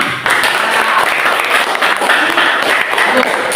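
Classroom of students applauding together, a steady dense wash of clapping filling the short moment, with voices mixed in beneath it.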